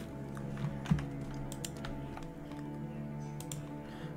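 A computer keyboard clatters with scattered soft key taps, fairly faint and close, over a steady low electrical hum.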